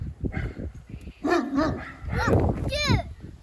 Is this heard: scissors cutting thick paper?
no